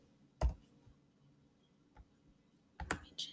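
A few soft taps on a computer keyboard are spread out and separated by quiet stretches over a low background hum. The closest keystrokes land as sharper clicks.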